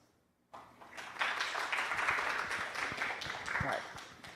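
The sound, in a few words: audience applause for the speaker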